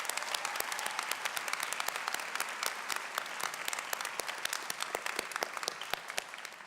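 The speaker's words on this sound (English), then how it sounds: "let's have another wonderful round of applause for these inspiring" A spring graduation crowd applauds its student speakers with sustained clapping, sharp individual claps standing out crisply against a fuller wash of hands, staying steady and fairly close throughout with no talking.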